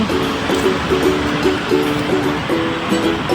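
Rushing river swollen after heavy summer rain in Taiwan, a steady loud broadband roar of flowing water with a faint tonal hum running beneath it.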